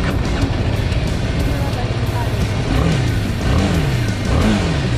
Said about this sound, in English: It revs up really quick.